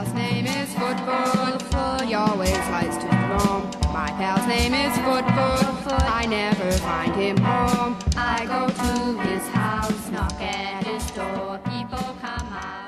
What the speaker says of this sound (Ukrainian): гітари, які ви чуєте, здається, не налаштовувалися з моменту їх продажу в магазині